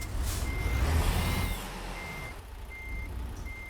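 Truck reversing beeps in American Truck Simulator, a steady series of sharp electronic pips repeating over a low engine rumble, loud at first then settling as the truck backs up.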